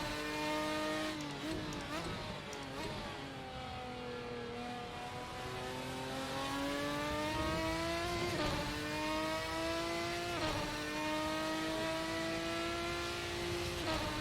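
A Ferrari 550 GT1 race car engine in the GTR2 racing game, droning steadily and climbing through repeated rising rev sweeps with brief drops between gear changes, continuous and fairly loud.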